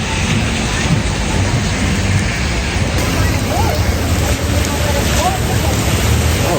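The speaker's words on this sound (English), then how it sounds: "It started pouring a block before I got here." Heavy rain pouring outdoors, a steady dense wash of noise that fills the whole clip without a break, with faint bits of voice under it.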